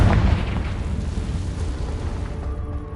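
Blasting curse explosion from a Harry Potter wizarding video game: a loud, booming burst right at the start that settles into a rumbling, crackling roar lasting the rest of the moment.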